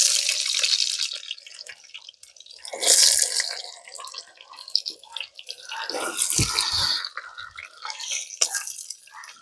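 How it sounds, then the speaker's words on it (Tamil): Chopped big onions go into hot oil in a village kitchen for a squid curry, setting off close, loud bursts of hissing, crackling sizzle that swell and fade in waves. "நாங்கள் வெட்டி வச்ச பெரிய வெங்காயத்தை போடுவோம்"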